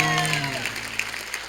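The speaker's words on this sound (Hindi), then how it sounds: "जोरदार तालियां चंदू के लिए।" Studio audience applause on a comedy talk show rises briefly, a short burst of clapping with a faint tone fading underneath.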